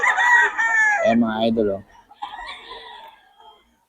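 A gamecock rooster crows close by and loud, one long harmonic call that breaks into a choppy, stuttering ending, followed by someone speaking.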